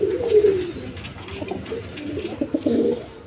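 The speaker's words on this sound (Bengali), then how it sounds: "এইখানে এক পেয়ার ক্রিমবার বিউটি আছে, দেখেন দেখার মতো কবুতর" A pair of cream bar beauty pigeons coo close by in soft, rolling, low-pitched phrases that swell and pulse, with no talk.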